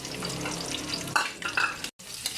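Labuyo chili and onion sautéing in hot oil for adobo, a steady close sizzle with stirring scrapes and a brief cut to silence near the end.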